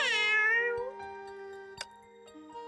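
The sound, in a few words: cat meowing in video game Honkai Impact 3rd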